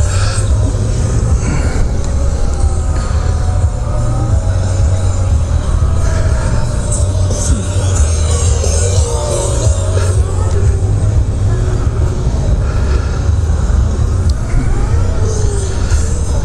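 A Harley-Davidson LiveWire electric motorcycle rides through a police competition course, heard as a constant loud rumble and wind-buffeted drone with a faint whining tone shifting over it, continuous throughout.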